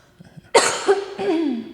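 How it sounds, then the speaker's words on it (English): A single sharp, close cough from a person in a quiet room, followed by a short rasping throat-clearing sound. "I got a cough."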